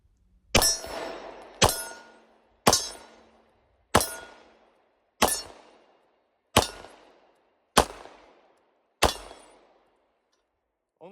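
A Beretta Model 1934 9mm pistol fires eight shots at steel targets on a range: eight sharp, loud reports spaced about a second apart, each with a metallic ring and a short decaying tail.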